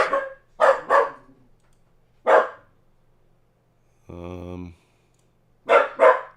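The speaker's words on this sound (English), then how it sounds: "my son's home, so my dog's barking" A pet dog barks indoors at home, sounding as loud, close bursts: a double bark, a single one, then another double, with a short whining or tonal sound in between.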